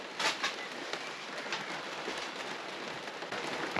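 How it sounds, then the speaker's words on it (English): Steady rain patters down in a workshop during a winch repair, a soft continuous hiss with scattered louder drops, heard alone at a fairly faint level. "Hear that rain now."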